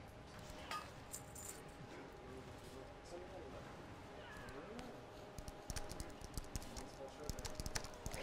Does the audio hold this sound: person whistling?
no